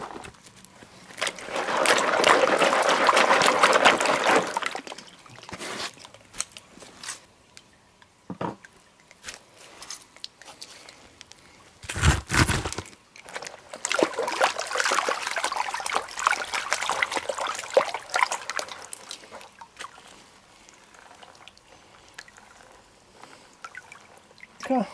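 Water sloshes and swirls through a gold pan full of bedrock crevice gravel, with wet grinding, trickling and splashing in uneven bursts, close by and moderately loud, interrupted by handling knocks.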